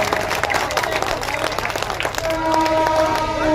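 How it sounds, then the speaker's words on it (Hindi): An audience at an Urdu ghazal and mushaira poetry recital claps loudly in a dense, steady burst, with a crowd murmur and a brief sustained tone underneath. "बस एक बार दोनों हाथ खड़कर जोरदार ताली बजा अपने तारीफ करें"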